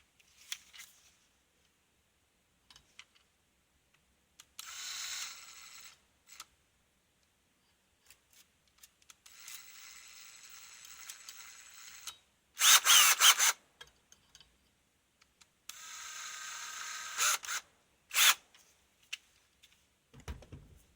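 A power drill driving a screw runs in several short bursts of whirring, separated by quiet pauses and small handling clicks, with one louder, harsher stretch partway through.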